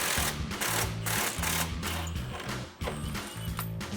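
Impact wrench with a 21mm socket driving a lower strut bolt on a 2009-2018 RAM 1500, giving loud rapid rattling hammer bursts in repeated pulses with brief breaks between them and no talking.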